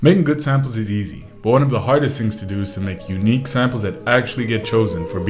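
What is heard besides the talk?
None of the usual background noises is heard.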